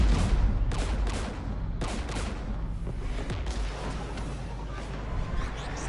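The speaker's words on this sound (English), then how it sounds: "We're taking fire." Gunfire crackles in Mass Effect 3 combat, with loud bursts and rapid volleys of shots. Heavier booms and sharp reports repeat irregularly over a deep rumbling backdrop.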